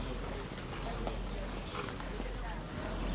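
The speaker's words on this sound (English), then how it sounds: "Some horses behave so badly" A young racehorse on the Saratoga backstretch walks with clip-clopping hooves, a few distinct hoof strikes over a steady outdoor background, with people talking throughout.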